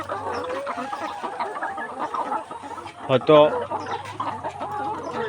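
Layer hens on a farm cluck steadily in the background, with one louder close squawk midway, under a low hum and a brief spoken word.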